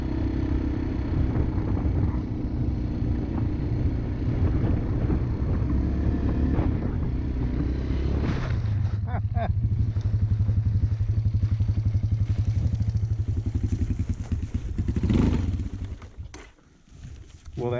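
A Honda FatCat TR200 ATV engine on a top speed run, a loud, close, rough motor drone that climbs in pitch through a gear change, with wind buffeting and rattles, then cuts out abruptly near the end.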